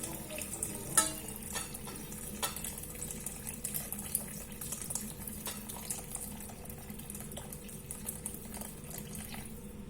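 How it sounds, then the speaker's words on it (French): Broth is poured from a cast-iron cocotte into a bowl set on a kitchen scale for couscous, giving a steady liquid splash and trickle with a few clinks, heard close and continuous. "je vais mettre le bouillon que j'ai prélevé de ma cocotte"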